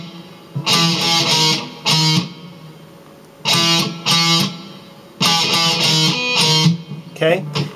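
Distorted electric guitar rhythm riff played on the fourth string, in short choppy bursts of chugging notes separated by brief pauses, close and fairly loud, ending with a few quicker picked notes.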